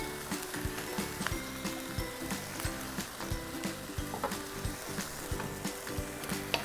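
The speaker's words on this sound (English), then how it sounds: "the spring onions, we're not really cooking that through too much" Spring onions stir-frying in a pan crackle with a continuous close sizzle, broken by quick rhythmic scraping and tossing clicks from stirring.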